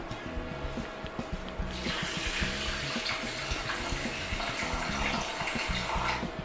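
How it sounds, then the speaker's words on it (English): Water poured steadily into a chia and pumpkin seed mixture in a kitchen, a continuous splashing flow that grows fuller after the first second, close and without talk. "we're going to add some water to the mixture."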